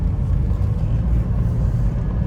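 A rebuilt flood-salvage Porsche Boxster drives around the block, its engine a steady low rumble with road noise holding constant throughout, close and fairly loud with no talk.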